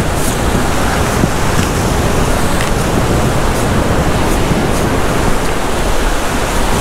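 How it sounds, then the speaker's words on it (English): Ocean surf washes steadily against a rocky shoreline, a loud, continuous roar of breaking waves with wind noise across the microphone and no speech. "And we have this entire ocean."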